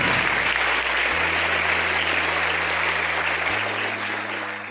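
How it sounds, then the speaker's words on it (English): An audience claps for a performer at a school Republic Day celebration, sustained loud applause over a low steady hum from the sound system, tapering slightly at the end. "Please grace her with a huge round of applause."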